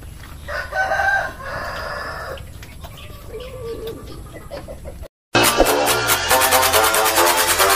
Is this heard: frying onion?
no